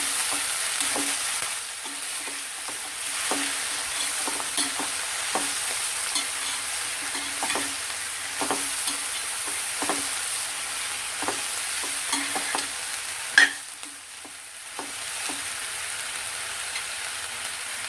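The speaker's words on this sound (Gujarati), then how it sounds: "અને એકવાર એને હળવા હાથે મિક્સ કરી દઈશું" Fenugreek brinjal curry frying in oil gives a steady close sizzle, while a utensil scrapes the pan in gentle, regularly spaced strokes, with one sharper knock near the end.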